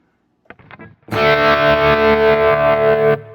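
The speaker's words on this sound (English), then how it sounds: "you can hear the tremolo sound is kind of on all the time" Distorted electric guitar chord through a Quad Cortex tremolo turned all the way up, a few brief muted string scratches first, then one loud sustained chord with steady, nearly constant wavering that cuts off cleanly near the end.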